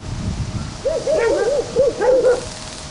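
Two dark dogs at the site of a street incident in Rivne bark in a quick series of sharp yelps at moderate distance, with no talk over them.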